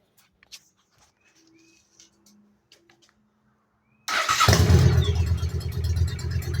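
A 2008 Honda Shadow Aero motorcycle with a hole-saw-modified exhaust fires up after a few seconds of quiet, then settles into a loud, steady, deep rumbling idle close by.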